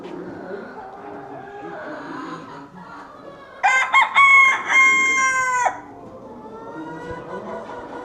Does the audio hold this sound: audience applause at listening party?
no